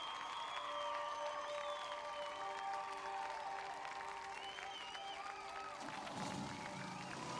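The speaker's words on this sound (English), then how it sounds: "you smile up at Tomasz, who receives a thunderous applause" Crowd applause at a concert's final bows in the video game Tiny Bookshop, a steady quiet patter of clapping and cheering under game music throughout.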